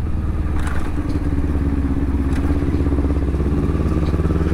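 Close, loud motorcycle engine of a rider's bike nicknamed Airborne, idling and revving steadily with a continuous mechanical rumble and some clatter, no voices.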